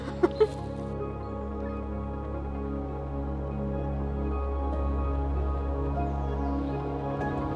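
A chicken in a Scottish woodland gives a couple of brief clucks near the start, followed by a quiet, steady outdoor hum.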